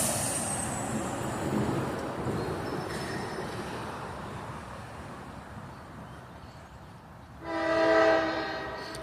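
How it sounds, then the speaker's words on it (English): A mixed freight train led by four heavy locomotives rumbles past a grade crossing at a rail junction, a steady loud roll throughout, with a blast of the horn near the end. "we got our third train of the morning coming"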